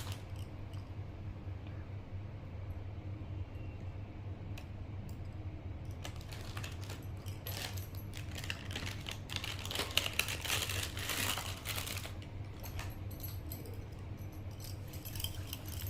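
Tarot cards being shuffled live, a quiet riffling and clicking that starts faint and grows busier for several seconds midway before settling, set against a low steady room hum with no talk.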